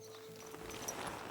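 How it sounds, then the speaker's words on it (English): Horse hooves clip-clop at a slow walk in Kingdom Come: Deliverance II, a soft, steady run of hoof falls over a low game ambience, fairly quiet and without talk. "get off the horse."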